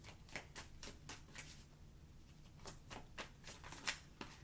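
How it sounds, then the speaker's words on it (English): A deck of playing cards being shuffled over and over, a steady run of soft riffling flicks and snaps, close and fairly quiet, with no talking. "Let me reshuffle again just to make sure."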